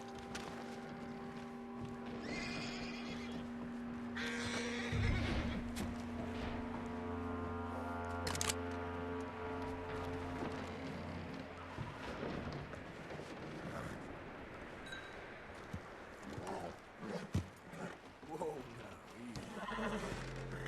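A horse in Red Dead Redemption 2 whinnies and its hooves clip-clop amid ambient game sounds and music, with voices talking over much of the stretch.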